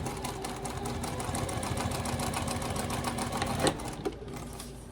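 A sewing machine top stitches along the folded edge of a small wallet with an eighth-inch seam allowance, a steady close rapid whirring that runs for several seconds before slowing and stopping with a couple of clicks.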